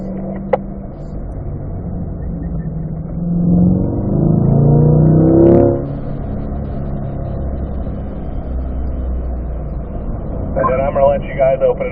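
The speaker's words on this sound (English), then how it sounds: "We're going to stay in 3rd gear here until we get back to that front straight." A car engine on a race track holds a steady drone in third gear, swelling louder for a couple of seconds mid-run before settling back, with a brief sharper burst near the end.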